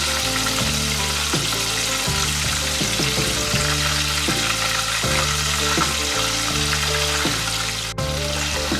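About six chicken pieces deep-fry in a limited amount of oil for Hong Kong-style sweet and sour chicken, giving a loud continuous sizzle and bubble under a repeating low musical backing, with no talking.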